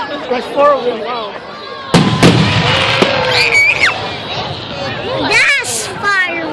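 Fireworks at a show go off at a distance, with a sharp burst and a few thuds and crackles under excited talk and whistling from nearby spectators.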